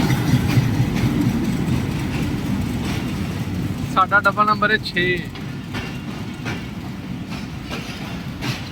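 The 11 Up Hazara Express rolls into a station in Pakistan, a low rumbling rush of wheels and carriages with a short run of tonal horn-like blasts midway, while someone talks over it.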